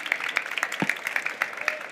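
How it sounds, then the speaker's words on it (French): Brief, sparse clapping from a small audience after a bread-making masterclass by a chef, a few scattered claps at moderate distance with no talk. "Je pense qu'on peut applaudir bien fort"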